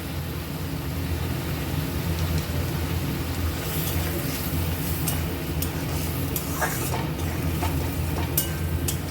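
Potatoes and eggplant cooking in oil with turmeric and coriander in a pan, a continuous rain-like sizzle with scattered scraping clicks from stirring, close and unbroken.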